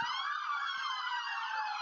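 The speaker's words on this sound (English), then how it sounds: "Well, at least everybody's sirens work." Emergency vehicle sirens sounding during a homecoming parade, a loud, steady wailing tone with layered overlapping sirens held continuously throughout, close by and unbroken.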